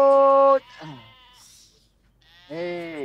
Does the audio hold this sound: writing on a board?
no